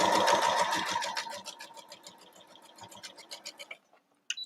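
A sewing machine runs fast while chain piecing fabric for a small Christmas tree quilt block, a steady dense stitching buzz that slows into separate stitch pulses before stopping, with a faint click at the end.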